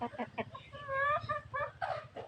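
Native country chickens cluck and squawk close by while being fed a mixed grain feed, a busy run of short calls and a few longer drawn-out notes.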